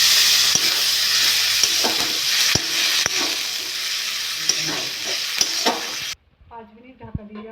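Fish and potatoes fry loudly in a pan, with steady hissing and sizzling broken by occasional sharp knocks of stirring. Then water goes in and the sizzle cuts off abruptly, leaving only faint bubbling.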